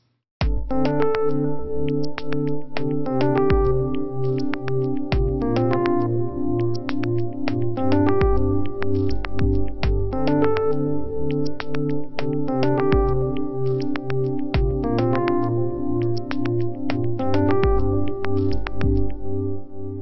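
A rhythmic synth pattern pulses through a tremolo auto-panned left to right and an auto-filtered delay, repeating steadily in short bursts with echoing tails.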